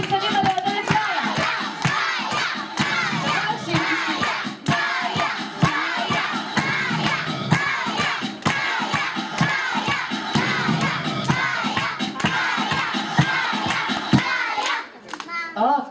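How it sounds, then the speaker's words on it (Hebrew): Children at Dana's sixth birthday party shout and cheer loudly for Maya, a dense, continuous crowd of young voices with clapping hands that carries on steadily before dropping away briefly near the end. "קדימה לעודד את מאיה."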